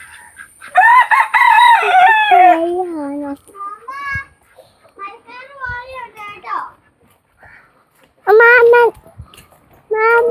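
A rooster crows loudly, and chickens cluck in short bursts around it, with someone talking nearby between the calls.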